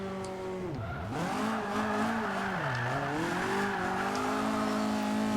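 A BMW M3 E30 drift car engine in Forza 5 revs and drifts on a track with continuous tire squeal, pitch dipping and rising as it slides through turns, loud and close with no talking.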